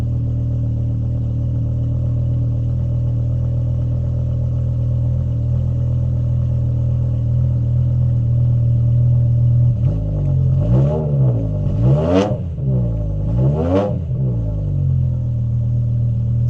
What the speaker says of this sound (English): What a great sounding car.